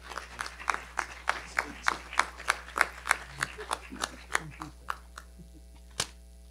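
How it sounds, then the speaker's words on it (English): A round of applause honoring a county Teacher of the Year, heard as a quick run of sharp separate claps, fairly faint and thinning out toward the end before one last clap. "one more round of applause for Mr. Jonathan Dunn"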